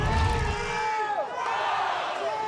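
A crowd at an NCAA men's college tennis team final cheers for TCU, a sustained roar of shouts and whoops from spectators, with a commentator talking over the noise.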